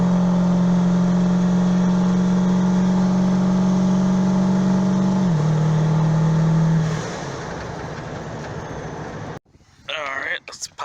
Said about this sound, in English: let me get some videos of the truck boosting, and you can definitely see how boost comes on slower with the van turbo